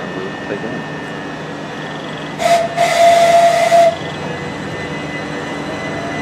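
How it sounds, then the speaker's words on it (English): A depot train whistle sounds at Kearsney as a loud, sustained steam-style blast of about one and a half seconds. A short first toot comes just before it, set against steady background rumble and hiss. "Depo whistles."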